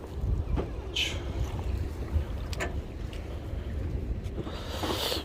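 Strong wind buffets the microphone at Yangpo harbor in Pohang, a steady low rumble with gusts throughout and faint water and boat noise beneath, no talking.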